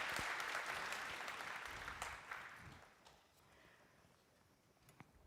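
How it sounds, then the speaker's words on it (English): Applause from a conference audience at an opening ceremony in the Vienna International Center, loud at first and then thinning out into scattered claps before fading away. "an incredible round of applause for Mr. Brandolino"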